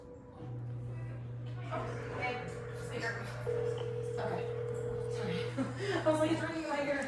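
A mobile phone places a call, a long steady tone that later shifts to a second tone, with people talking and chuckling over it in a truck cab.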